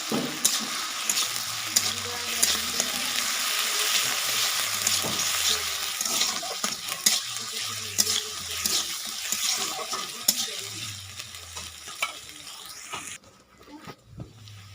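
Tel koi fish frying in oil with ginger garlic paste, stirred steadily in the pan: a continuous close, bright sizzle with repeated scraping strokes throughout, dropping away abruptly near the end.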